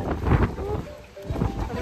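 Strong wind buffets the microphone at a coastal area in rainy weather, a loud, irregular rumble that gusts and briefly drops before surging again, with faint voices mixed in.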